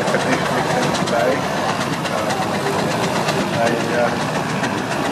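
A restored steam timber tractor runs at the Great Dorset Steam Fair, its engine giving a steady, loud rhythmic chuffing and mechanical clatter, with voices in the background.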